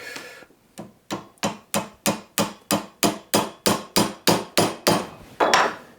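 A hammer drives tacks into the thin wooden band of a Shaker box, the points crimping against an iron anvil beneath. Fifteen sharp, evenly paced blows ring out close and loud, with no voices.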